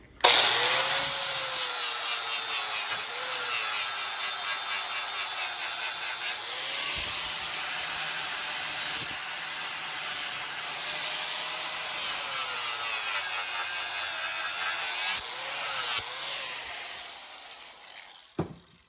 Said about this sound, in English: this Purple Heart splinters out pretty bad, so I'm actually gonna sand it off with the grinder